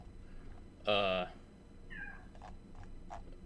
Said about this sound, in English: Was somebody just getting meowed at? It's my cat.